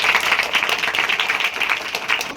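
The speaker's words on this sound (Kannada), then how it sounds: "ಅಯ್ಯಪ್ಪಗೆ ಜೋರಾದ ಚಪ್ಪಾಳೆ ಬರಲಿ" Loud, dense applause from a school audience at a science day quiz, rapid overlapping clapping filling the room, close and sustained for the whole moment.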